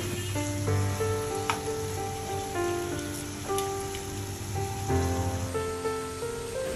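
Four portions of beef steak sizzle in soybean oil in a pan, a steady close crackle with light spatter, while a melodic tune plays in the background.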